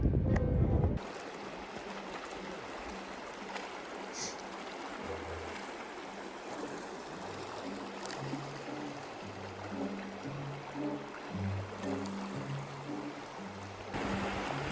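Creek water flowing near a hiking trail on the Great Divide, a steady rushing wash that stays moderate and continuous after a brief louder rustle at the start, with no talk.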